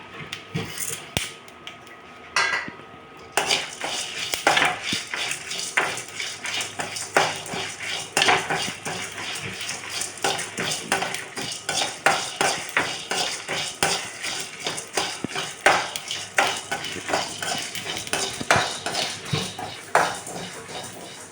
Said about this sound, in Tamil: இப்போ நான் ஜீரகமும் வெந்தயமும் சேர்த்துக்கிறேன்